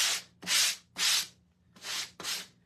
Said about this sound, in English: Let's just go over it with a sanding block.